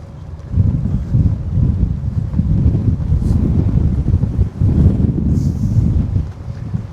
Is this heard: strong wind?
yes